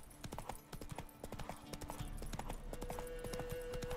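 Steady clip-clop of horse hooves at a brisk trotting rhythm in The Witcher 3, close and moderately loud, with a brief whinny-like tone partway through.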